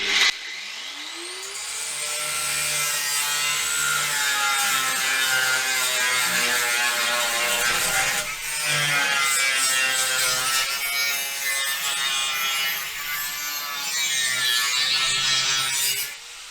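An angle grinder cutting into the chassis of a 1971 Range Rover, a loud continuous high whine with shifting pitch and a brief dip midway, sustained and close throughout.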